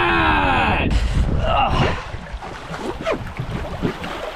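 A sailboat heeled over and moving through wind and waves, with loud rushing water and wind gusts close by, then a softer wash of splashing and hull noise as a voice shouts briefly over it.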